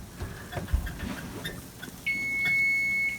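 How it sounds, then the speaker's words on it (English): A kitchen timer starts beeping partway through, a steady high electronic tone holding for about a second, close and clear after quieter kitchen handling noises. "Oh, there goes my timer."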